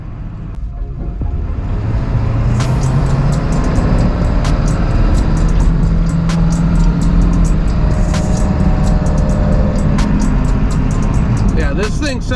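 A Ford F-550 XLT's 7.3L Powerstroke diesel engine, fitted with new BD Power up-pipes, drones steadily and smoothly for the whole stretch, loud and close, with faint clicks and rattles over the low rumble.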